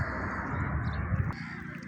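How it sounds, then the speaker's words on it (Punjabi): Crows cawing in the shade beneath the Ravi river bridge near Qutab Shahana in Punjab, with pigeons also present; steady low rumble throughout, with a calmer stretch near the end. "ਇੱਥੇ ਤੁਹਾਨੂੰ ਕਾਂ ਤੇ ਕਬੂਤਰ ਨਜ਼ਰ ਆ ਰਹੇ ਨੇ।"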